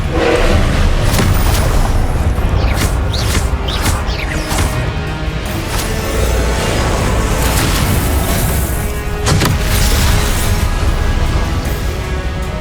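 Repeated Confringo blasting-spell explosions from Hogwarts Legacy, a dense barrage of loud booms and crashes running continuously with no pauses, layered over constant game combat noise.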